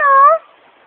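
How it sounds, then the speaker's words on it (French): A single cat gives one short, clear, tonal meow at close range, which cuts off quickly into quiet. "Il est allé tout seul et maintenant il miaule, il pleure."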